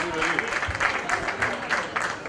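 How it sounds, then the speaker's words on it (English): Applause from an audience at a Mumbai-style book release event honoring Dara Singh, moderate clapping with crowd noise and some voices mixed in, fairly steady across the moment. "a round of applause"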